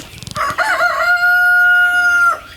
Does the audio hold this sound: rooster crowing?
yes